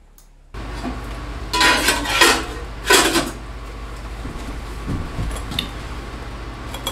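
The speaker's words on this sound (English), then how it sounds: "So I'll just run it on the wire wheel and I'll get all the corrosion off of it." A carburetor idle adjustment screw from a DR650 held against a spinning wire wheel to strip corrosion, giving loud bursts of harsh abrasive whirring over a motor hum, then quieter grinding contacts.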